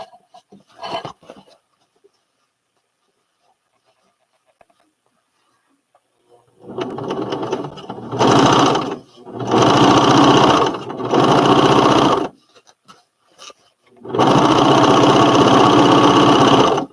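A sewing machine runs stitches through fabric in several loud, steady bursts separated by pauses, each run humming evenly and close by, with a brief rattle near the start.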